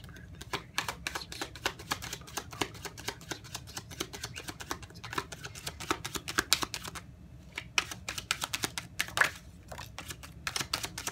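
Tarot cards being shuffled and drawn: a long, quiet run of rapid, crisp paper clicks and flutters at close range, with a few short pauses, and no talking.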